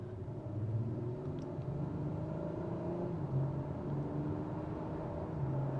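A 2021 Acura TLX Type-S accelerates with a low, steady exhaust rumble heard from inside the cabin, a droning hum that holds constant without sharp revs.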